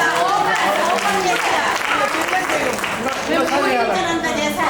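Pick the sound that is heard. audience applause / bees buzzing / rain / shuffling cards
audience applause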